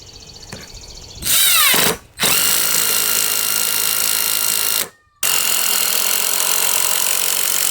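A power drill with a speed bore bit cuts a 1-inch hole through wood with a loud, steady whine, stopping briefly twice before spinning up again, close and continuous.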